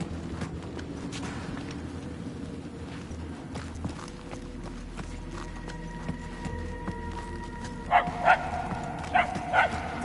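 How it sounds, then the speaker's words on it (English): A small dog yaps a few times in the distance in the video game Guardians of the Galaxy, faint at first and growing somewhat louder, over a low ambient background. "The yapping is getting louder."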